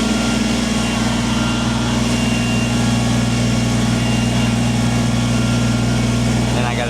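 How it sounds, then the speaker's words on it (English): A Kubota tractor's engine drones steadily and loudly up close while the front loader scrapes ground under a carport, a constant low hum with grinding texture and no clear breaks. "And now we're scraping with the full weight of the front of the tractor on it."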